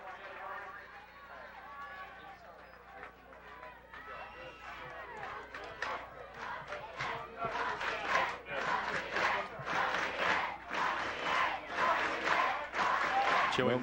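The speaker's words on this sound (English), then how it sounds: "The Lafayette crowd is getting into the game" Crowd at a 1999 state semifinal high school football game between Park View and Lafayette, with Lafayette supporters' roar building from murmur to loud sustained cheering with rhythmic shouts.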